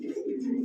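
A pair of white pigeons at a pigeon farm gives a single short, low cooing note, close and clear against a quiet background.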